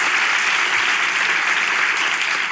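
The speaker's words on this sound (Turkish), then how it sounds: "Kocaman alkış!" Loud, dense studio audience applause on a Turkish talk show, a steady wash of clapping sustained throughout without speech.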